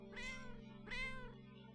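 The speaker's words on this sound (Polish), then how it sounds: "Ale słyszę tu inne miałczenie." Two drawn-out meows from a cat in the video game Hidden Paws Mystery, close and clear, separated by a short pause over a steady low background drone.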